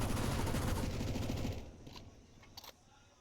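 Gunfire in Counter-Strike, including a wallbang, with a Mac 10 in play: a loud, dense burst of rapid shots fades after a second and a half into a few sharp, fainter cracks.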